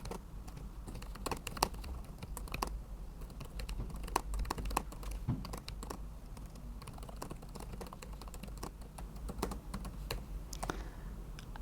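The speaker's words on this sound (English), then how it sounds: "you can type a little message to your tutor just to say what you did for the day" A short message is typed on a computer keyboard, producing steady, close keystroke clicks that run throughout with brief irregular pauses between them.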